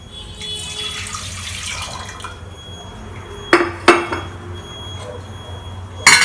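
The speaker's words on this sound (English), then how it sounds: "I'm going to add some water." Water poured into a cooking pot in a home kitchen, a steady splashing rush for a couple of seconds, then a few sharp metallic clinks of the pot up close.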